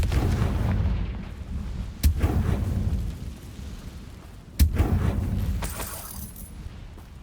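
Confringo spell blasts in the game Hogwarts Legacy, two sharp loud explosive bangs a few seconds apart over a rumbling battle backdrop, with a bright crackling tail after the second.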